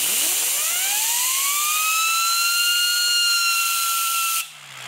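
A 3D-printed spinner driven by compressed air whirs up to high RPM with a rising jet-like whistle that climbs in pitch and holds steady over a constant hiss, then cuts off abruptly near the end.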